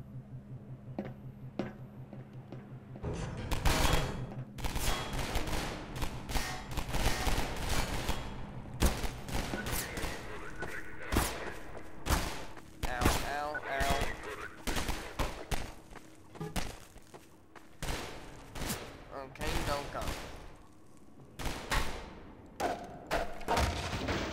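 Dense gunfire from Half-Life 2 fills the whole stretch: rapid bursts and single sharp shots, close and loud, stacking into near-continuous volleys with brief gaps.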